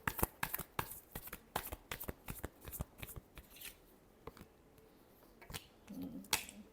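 Tarot cards being shuffled close up in crisp, rapid bursts of flicking and riffling, with irregular pauses between clusters of sharp card snaps.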